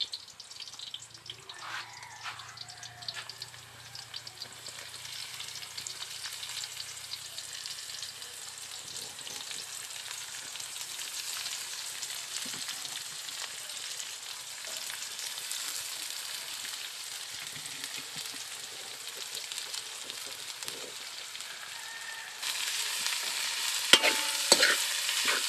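Banana blossom frying in a pan gives a soft, steady sizzle with occasional stirring scrapes throughout, and a brighter burst of sizzle toward the end; no one speaks.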